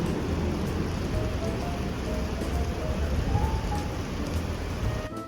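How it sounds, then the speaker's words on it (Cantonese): Heavy rain pours steadily on a Taipei morning, a dense continuous hiss and patter close by with no break, alone without talk. "不過咧就落到超級大雨"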